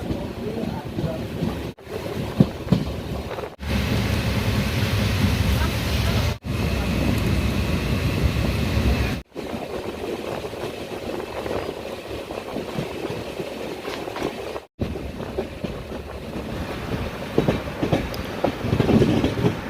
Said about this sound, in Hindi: यहाँ देख सकते हैं कितना जोरों की बारिश हो रही है